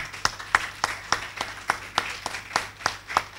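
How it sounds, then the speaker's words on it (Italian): Applause from an audience at a conference on the day for life in Scerne di Pineto, a sparse, even clapping rhythm of roughly a dozen distinct claps, fairly faint and without voices. "il più grande applauso, secondo me, vada al nostro amico Leuzzi"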